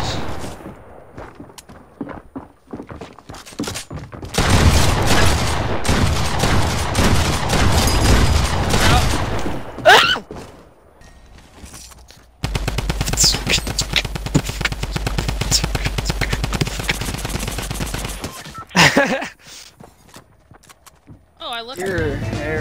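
Dense, sustained gunfire in a Fortnite match rattles in two long bursts separated by a short gap, loud and close. Voices talk over the shooting.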